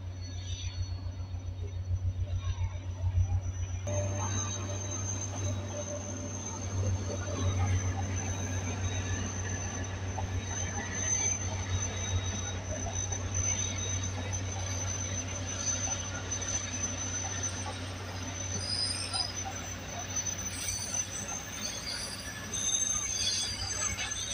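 A train pulls into a railway station at night with a steady low rumble of wheels and faint squealing along the rails, a continuous rolling noise lasting throughout.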